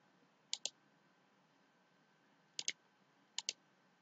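Computer mouse clicks sound close and crisp in three quick double-clicks, each pair a sharp tick-tick, separated by pauses against a faint background hum.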